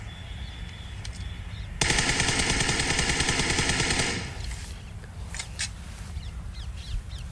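Rapid automatic fire from an MK rifle in the PUBG Mobile battle royale game, one loud sustained burst of roughly two seconds standing out clearly above the background game ambience, with no talk.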